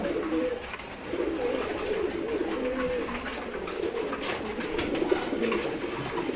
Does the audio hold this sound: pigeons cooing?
yes